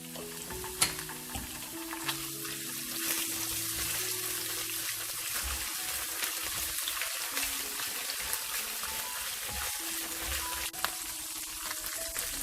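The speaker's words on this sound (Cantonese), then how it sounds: "落1湯匙嘅豆瓣醬爆香" Chili bean paste fries in a wok over low heat with a continuous crackling sizzle, broken by occasional clinks and scrapes from stirring, close and without speech.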